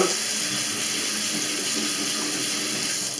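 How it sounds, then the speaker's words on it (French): Steady stream of cold water running from a single-lever mixer faucet into a sink, a continuous loud hiss and splash with no break. "L'eau froide fonctionne."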